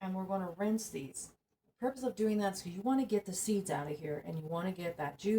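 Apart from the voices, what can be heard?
No everyday noises stand out.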